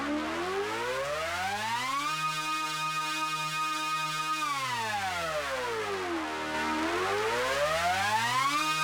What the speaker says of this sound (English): We have a war siren.